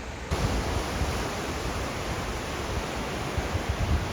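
Ocean surf rolls steadily onto the beach at Arambol, Goa, a continuous broadband wash of breaking waves with wind noise, fairly loud and unbroken, with no voices.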